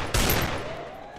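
A sharp burst of gunfire from a Desert Eagle pistol in the video game Free Fire hits loud and close, then rings out into a decaying tail over about a second.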